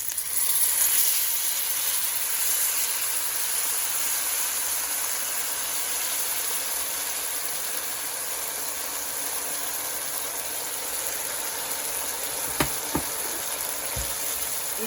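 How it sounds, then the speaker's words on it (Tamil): Tamarind solution poured into green chillies frying in a pan, producing a loud, steady hiss of sizzling oil that holds evenly throughout, with a few small clinks near the end. "இந்த பழப்புளி சொல்யூஷனை இதுக்குள்ளே அப்படியே ஆட் பண்ணுறேன் பாருங்கள்."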